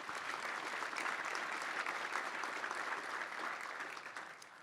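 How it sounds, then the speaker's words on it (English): An audience at a Bend Chamber event bursts into steady, sustained applause, a dense wash of clapping that holds strong throughout and tapers slightly at the end. "Round of applause."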